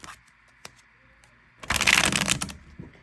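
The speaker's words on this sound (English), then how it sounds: "I love to shuffle my cards like this." Tarot cards being shuffled by hand: a single dense riffling burst of about a second, close and fairly loud, after a quiet stretch with a few light taps and handling sounds.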